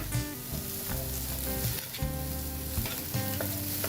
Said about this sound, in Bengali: এখন এই পেঁয়াজ কাঁচা মরিচটাকেই আমি তেল ছাড়া একটু নেড়ে চেড়ে ভেজে নিচ্ছি